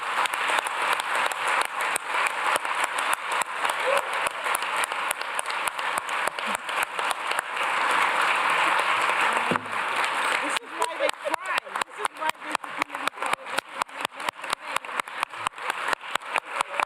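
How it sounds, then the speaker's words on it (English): Applause at an international committee meeting, first a dense crowd wash and then thinning into sparse, rhythmic individual claps toward the end. "Applause."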